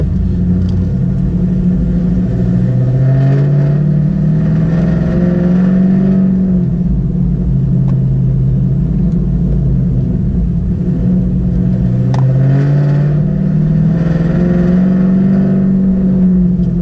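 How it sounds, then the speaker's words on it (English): Chevrolet Camaro engine revving loudly, a deep continuous rumble that rises and falls in pitch over several pulls, close and loud, with no talking. "the jerk is driving the damn loud car coming through the neighborhood"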